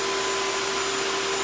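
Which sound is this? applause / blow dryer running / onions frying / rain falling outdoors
blow dryer running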